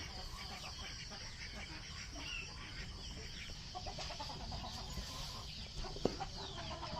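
A native country hen clucks softly and steadily on a backyard duck farm where eggs are covered with straw for brooding, close by amid constant farmyard ambience, with one sharp click near the end.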